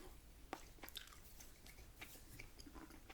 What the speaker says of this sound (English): I like chewing the gum.